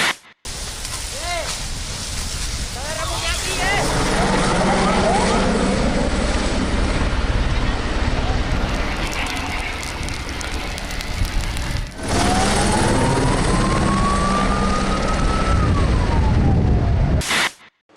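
A formation of about twenty military jets passes low over Paris at speed during the final rehearsal for the 14 July parade, a loud sustained roar with rising and falling engine whine, briefly broken by cuts.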